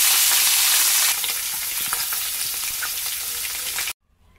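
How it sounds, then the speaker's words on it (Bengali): Fish frying in plenty of hot oil, a loud, dense, continuous crackling sizzle that eases slightly after about a second, then cuts off abruptly near the end, with no talking. "এখন মাছগুলোকে ভেজে নেব"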